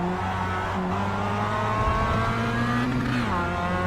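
A Mazda race car engine in the iRacing sim screams around Laguna Seca, sustained high revs with pitch dropping and climbing through shifts and corners, loud and close with no talk.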